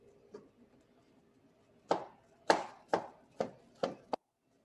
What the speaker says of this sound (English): I'll chop up some of my tops.